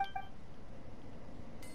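Two short electronic beeps from a device in the video game Genshin Impact sound in quick succession at the very start, fairly faint, followed by quiet low background hum.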